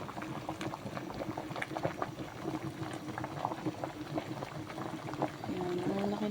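Corn on the cob simmering in a pot of water, a steady rolling boil with continuous bubbling and popping that swells slightly louder toward the end, close and alone.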